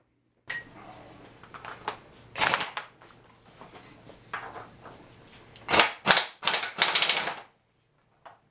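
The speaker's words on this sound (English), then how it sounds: "I'm going to get my impact out, and we'll get this nut removed." An impact wrench removes the rear axle nut on an Austin Healey Sprite, giving several sharp rattling bursts of hammering of varying length with short pauses between them, close and fairly loud in a quiet workshop.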